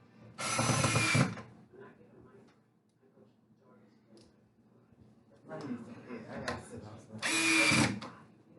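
Power drill driving the last screws into an industrial farmhouse bench during assembly, two short whirring bursts separated by a quieter stretch with faint handling sounds.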